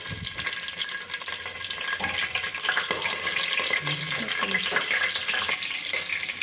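Coriander and mint leaves fry in oil for a white pulao, a steady close sizzle and hiss with occasional stirring scrapes throughout.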